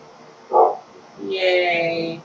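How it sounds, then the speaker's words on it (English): A pet dog in the background gives a short bark followed by a longer, whiny yelping bark, fairly close and clear in a quiet room. "Yay, the dog is barking."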